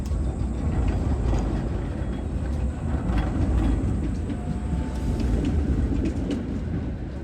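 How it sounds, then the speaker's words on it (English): Old and new trams running along Prague streets, a steady close rumble of wheels on rails with faint rattles and clicks under constant city noise. "The old and new trams create a harmonious connection."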